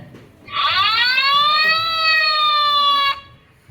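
A loud fire truck siren wail sweeps upward, then holds a steady tone for about two and a half seconds before cutting off abruptly.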